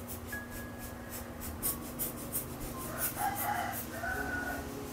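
Chickens with a rooster crowing in the background, heard faintly over a steady hum and the scratchy rubbing of a brush painting on canvas.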